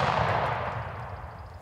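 A single hunting gunshot booms out loud at the start, then fades into a long rolling echo across open ground.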